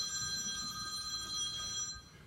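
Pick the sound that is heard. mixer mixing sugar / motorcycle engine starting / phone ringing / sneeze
phone ringing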